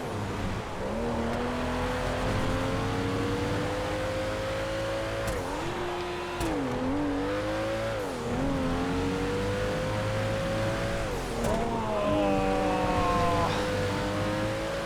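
Engines of race cars in a crowded multi-class GTA race drone and rise through gear changes, with a near car revving hard and others whining alongside in a loud continuous roar, plus a brief tire squeal.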